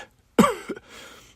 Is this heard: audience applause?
no